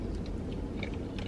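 Chewing on a Taco Bell breakfast burrito, close and wet with soft crunchy bites and mouth noises packed into a brief moment, no speech.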